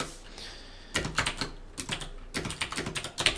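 Rapid bursts of computer keyboard typing, close and fairly loud, arriving in uneven clusters separated by brief pauses, with no voices over it.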